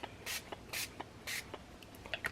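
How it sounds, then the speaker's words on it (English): Walnut Stain Distress Oxide ink is sprayed onto paper in three quick, close hissing bursts from a pump bottle, followed by a couple of softer, shorter spritzes, with no talking. "And this is the Walnut Stain Distress Oxide, right? So I'm just going to spray it."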